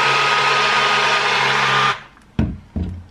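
A Blendy GO portable blender mixes a shake with a loud, steady motor whir for about two seconds, then cuts out, followed by two short knocks.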